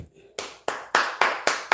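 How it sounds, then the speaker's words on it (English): Six sharp hand claps, loud and close, spaced evenly about a quarter second apart, each ending in a short room decay, with nobody talking. "clap for your damn self"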